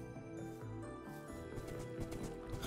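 A horse in the Minecraft video game, with clip-clop hoof steps and whinny-like sounds over a dense bed of game noise and music, continuous and fairly busy throughout.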